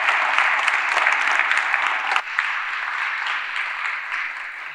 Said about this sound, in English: How about a big round of applause for a super panel?